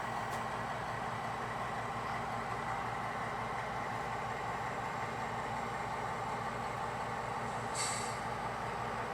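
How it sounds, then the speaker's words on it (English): A long DRGW passenger train rolls past a small switching area in the town of Hope, giving a steady, continuous rumble and roar that holds at one level throughout, with a brief sharp hiss near the end. "The passenger train is now passing the town of Hope, which is a nice little switching area."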